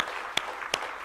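A congregation applauds during a Korean Sunday church service, a steady wash of many hands clapping with a few sharper, louder claps standing out at regular intervals.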